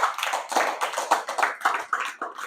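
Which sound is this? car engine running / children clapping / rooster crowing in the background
children clapping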